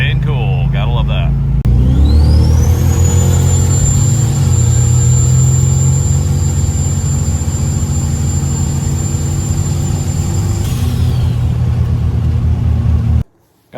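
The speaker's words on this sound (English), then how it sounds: "Car's running great, staying cool." Turbocharged Diplomat sleeper car idling and running steadily up close, a continuous low engine rumble with a rising high-pitched turbo whine that holds for several seconds and then fades, all on a cold day.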